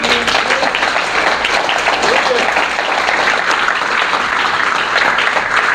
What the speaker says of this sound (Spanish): Denle un aplauso, papá.